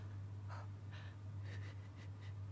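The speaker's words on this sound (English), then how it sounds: "Why are you breathing like that?" Heavy, rhythmic breathing with several rasping gasps in a row, set over a steady low electrical hum with no talking.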